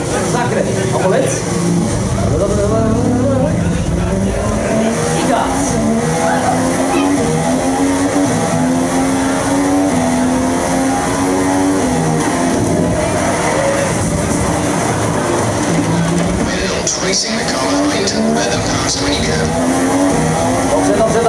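A race car accelerates through a lap, its engine note climbing in repeated rising sweeps as it works up through the gears, loud and continuous, with an excited voice talking over it.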